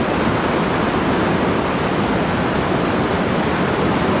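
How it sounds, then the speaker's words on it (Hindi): The fast-flowing Super Nala stream in Chilas Valley roars loud and close in a constant, unbroken wash of rushing water, with no voices over it. "ये बहुत तेज़ तेज़ पानी आ रहा है।"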